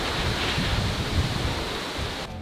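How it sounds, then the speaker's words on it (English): Strong wind roars across a beach in the Philippines, a loud, gusty rumble buffeting the microphone, easing near the end. "So much wind."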